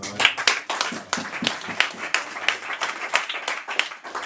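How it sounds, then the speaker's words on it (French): Applause from the audience at a kollel inauguration, a modest group of hands clapping with distinct, fairly steady claps throughout, moderately loud and close. "notre cher Yohan Aozi, je pense qu'il mérite des applaudissements."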